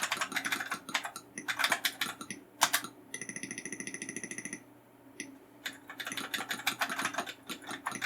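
Keys clatter on an Oric home computer keyboard in quick bursts of close, crisp typing, separated by a pause where a steady electronic tone from the machine sounds alone.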